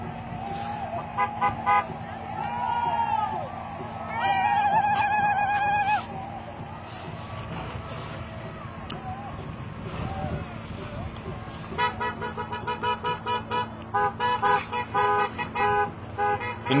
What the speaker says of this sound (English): The noise you hear is people going back in cars for medical and trying to clear the road to get back to camp.